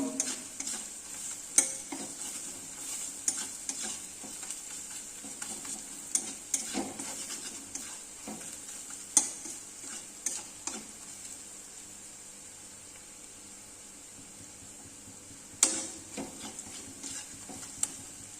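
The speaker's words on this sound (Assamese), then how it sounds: "এতিয়া আমি গোটেই মছলাখিনি একেলগত কিছু সময় ভাজি ল'ম" A soft, steady sizzle of spices frying on low heat in a pan for egg masala, punctuated by sharp clinks and scrapes of a spoon stirring against metal.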